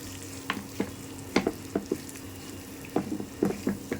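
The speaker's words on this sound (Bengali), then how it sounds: "এটাকে ডালের সাথে একসাথে করে একটু ভাজা ভাজা করতে হবে।" Lentils fry with salt in a little oil, a soft continuous sizzle broken by a series of sharp scraping stirs of the spoon against the pan, close and clear.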